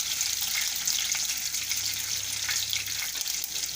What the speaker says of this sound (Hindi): छः से 7 कड़ी पत्ते डाल रही हूँ और 1 चम्मच तिल डाल रही हूँ